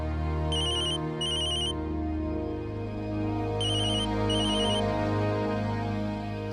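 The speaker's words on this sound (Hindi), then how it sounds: "गौरी के बाबा का फोन है." A phone ringtone chimes faintly in two pairs of quick bright beeps separated by a pause, sitting beneath steady background music in a household drama scene.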